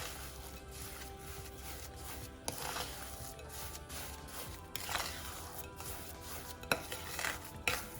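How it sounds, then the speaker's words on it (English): Sugar batter for blondies is mixed in a bowl with a utensil, a soft continuous scraping and swishing with a few louder clinks against the bowl, close and fairly quiet, with no talk. "just use normal caster sugar and just mix it till it's smooth"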